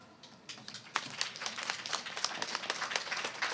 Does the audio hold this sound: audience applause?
yes